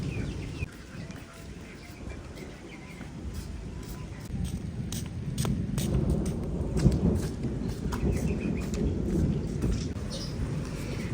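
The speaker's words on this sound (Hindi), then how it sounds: "इतने दिन बाद बारिश आई" Heavy rain falls in a village with a low thunder rumble building in the background, while people talk nearby.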